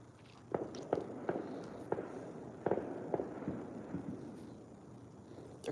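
Distant fireworks popping around an apartment on the Fourth of July, a series of sharp scattered bangs at irregular intervals, faint and far off over a steady background hum.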